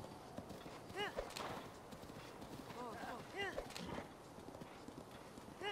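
A horse gallops in a video game, with rapid rhythmic hoofbeats and a few bursts of louder movement. A voice talks over the hoofbeats at times.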